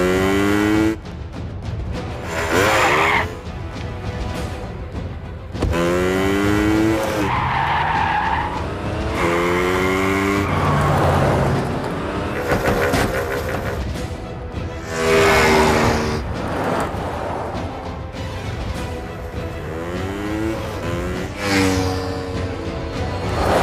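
A motorbike starts up and rides off, its engine whining and swooping up and down in pitch with bursts of tire skid. The sound is loud and sustained throughout, with no talking over it.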